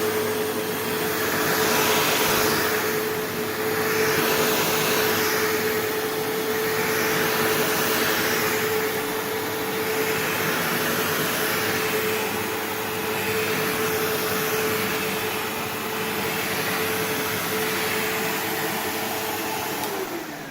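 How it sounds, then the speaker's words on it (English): A Lindhaus carpet cleaner vacuums carpet in a store, a loud continuous motor whine with a steady tonal hum that swells and dips slightly as the machine is pushed back and forth, with no talking. "We're going to go ahead and vacuum the floor."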